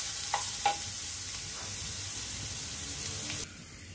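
Carrots sizzle steadily as they fry in a pan for japchae, with a few scraping stir strokes near the start, and the frying noise drops suddenly near the end.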